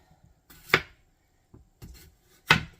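A knife chops potatoes into pieces on a cutting board, two sharp, near thuds about two seconds apart with softer knocks between, no talking.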